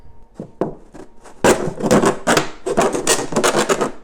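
Close, rough scraping and crunching as a blade saws through a stiff plastic bottle, starting with a few sharp clicks then a dense run of harsh, irregular rasping.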